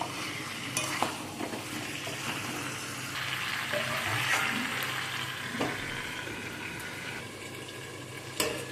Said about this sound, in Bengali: এখানে চিকেনটাকে আমি ঢাকা দিয়ে কষিয়ে নিচ্ছি।